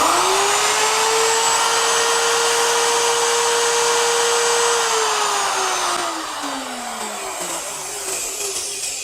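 A Porter Cable router runs after its power cord was replaced: a loud, steady high whine at full speed for several seconds, then the pitch drops as the motor winds down, with no voices.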